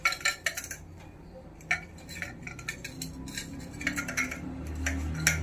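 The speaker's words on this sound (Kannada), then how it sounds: "ಇದು ಬೆಳ್ಳುಳ್ಳಿಯನ್ನು ಜಜ್ಜಿಕೊಳ್ಳುವುದು" Garlic cloves crushed by hand in a home kitchen while cooking, giving a series of sharp, close knocks and taps, bunched near the start and again toward the end, with no talking.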